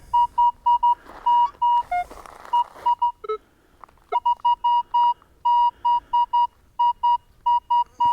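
A metal detector sounds repeated high electronic beeps while sweeping over junk metal on an old post-war soldier settlement site, the tones coming in short bursts with brief pauses between them.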